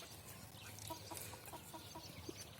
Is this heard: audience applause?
no